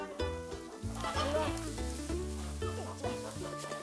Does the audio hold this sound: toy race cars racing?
no